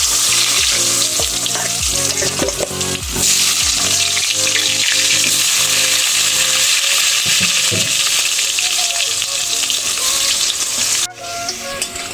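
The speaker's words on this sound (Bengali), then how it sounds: "আলুটা আমি হালকা ভেজে নিয়েছি" Loud, steady sizzling of potatoes frying in hot oil with bay leaf and cumin, occasional stirring clatter, continuous throughout.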